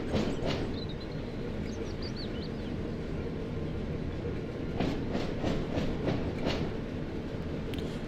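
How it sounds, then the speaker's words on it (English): Train wheels clack rhythmically over points in the Train Sim World 5 game, a steady rumbling roll with a cluster of sharp repeated clacks in the second half and faint bird chirps early on. "all the clacking as you go over the points"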